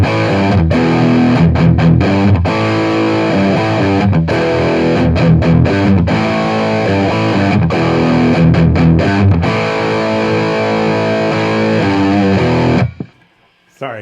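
An electric guitar plays loud, heavily distorted riffs through a Bogner Ecstasy Mini amp head with the gain switch engaged, choppy palm-muted bursts between sustained chords, ending in an abrupt stop and near silence.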